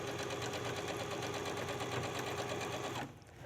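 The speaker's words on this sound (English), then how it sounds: "So I'm stitching around here." A sewing machine hums through a continuous run of rapid stitches while sewing around a dress pocket and its lining, loud and close, then stops abruptly near the end, leaving a quiet tail.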